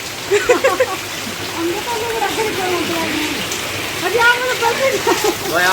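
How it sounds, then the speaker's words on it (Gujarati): Heavy rain pours down in a constant hiss and patter while people talk excitedly over it. "યાર ફૂલ વરસાદ આવી ગયો"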